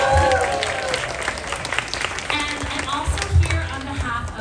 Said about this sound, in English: let's give it a round of applause for New Design High School